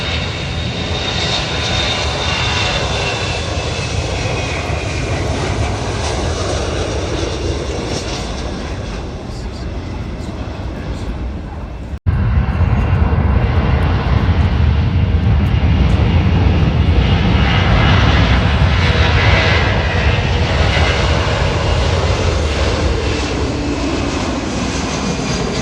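An airplane at the MCAS Miramar air show roars loudly and continuously, the engine noise swelling midway as it rolls down the runway, with an announcer's amplified commentary running over it.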